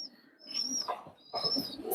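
A pair of Teddy high-flying pigeons coo softly in two short, low, throaty phrases, close by and with no voices.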